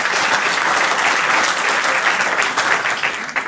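Audience at a French stand-up comedy show, parents in the crowd, breaking into steady applause, a dense wash of clapping that holds for a few seconds and tapers slightly.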